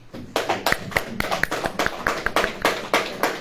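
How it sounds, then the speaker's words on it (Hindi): Clapping from an audience at a religious sermon, a series of sharp, fairly close claps in an uneven rhythm, sounding like a few people clapping rather than a large crowd. "ताली बजाएं से।"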